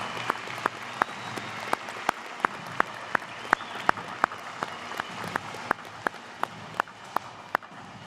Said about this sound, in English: Let's have one more round of applause for the NYPD Emerald Society